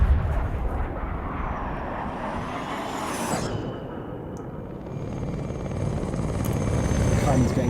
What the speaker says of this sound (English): Oh, the helis are in the mix over here. He's all on helicopter warfare.